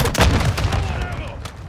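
Heavy airstrike explosions boom in a Modern Warfare II multiplayer match, several rapid thumping blasts in the first second followed by a rumbling, fading tail with faint crackle.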